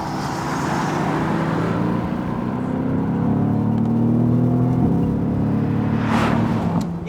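A 2017 Mercedes AMG GT C Coupe cruising on the road, its engine a steady low drone with a gentle rise in revs mixed with tyre and wind roar, no talking.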